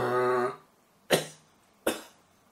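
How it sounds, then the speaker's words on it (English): One voiced sound comes first, then two sharp, separate coughs from a person running out of air, each short and close. "Cough, running out of air."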